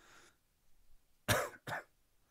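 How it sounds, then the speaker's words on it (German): A person coughs twice in quick succession, close and fairly loud, after a faint breath at the start, in an otherwise quiet room. "Jetzt kommt der nächste Huster."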